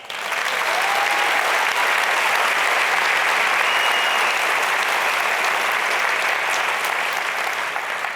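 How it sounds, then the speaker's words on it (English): A large audience at a motivational talk by a tennis coach claps in steady, dense applause that holds loud and even for the whole stretch, with no talking over it. "Round of applause."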